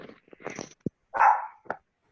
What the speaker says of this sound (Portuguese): Minha cachorra, ela não pode ver ninguém chegando pela live.